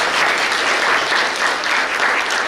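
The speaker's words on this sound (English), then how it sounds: "Big round of applause for our 7th grade" Sustained applause from an audience at a school social studies bee awards ceremony, honoring seventh grade students; steady, dense clapping throughout without talk.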